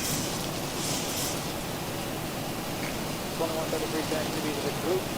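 Rain in the X-Plane 12 flight simulator hisses as a steady, broad wash over the whole stretch. A voice speaks faintly under it near the end.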